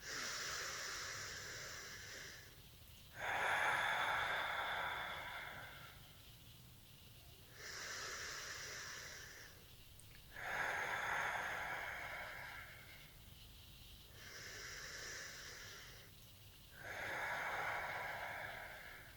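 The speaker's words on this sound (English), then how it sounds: "in through the nose, out through the mouth" Slow, deep breaths are drawn in through the nose and released through the mouth, each long exhale a soft airy rush. Several even cycles repeat at a steady pace, close and quiet, with no talking.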